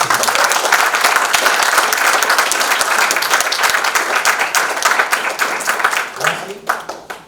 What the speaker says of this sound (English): Let's give him a very, very warm round of applause for this